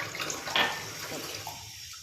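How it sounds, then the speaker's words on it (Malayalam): Filtered tap water runs from a pipe in a kitchen, a faint, brief rushing splash that swells near the middle and fades out toward the end, with no talking. "സോ ഞാൻ പൈപ്പിൽ നിന്ന് തന്നെ കേട്ടോ വെള്ളം എടുക്കുന്നത്."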